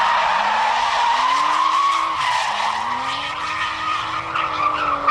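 A Nissan Laurel drift car skids with loud, sustained tire squeal as its engine drones and rises and falls in pitch, close and continuous through the run.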